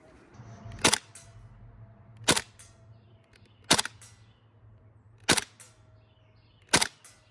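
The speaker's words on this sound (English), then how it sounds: "I'm going to fire some rounds from the F90 down into that little purple target right there" Airsoft F90 rifle firing single rounds at a small target, five sharp snapping shots at steady intervals of about one and a half seconds over a quiet outdoor background.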